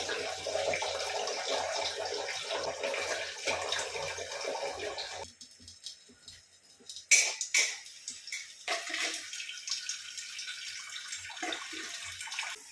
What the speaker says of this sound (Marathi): तर तिकडे पाणी भरायला लावले